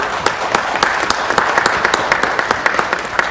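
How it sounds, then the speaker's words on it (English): A round of applause at a live-streamed community event, a crowd clapping near and steadily with distinct individual claps popping out of the even wash of sound. "Let's give them a round of applause."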